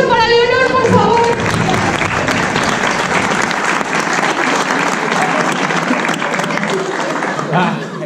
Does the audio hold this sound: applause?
yes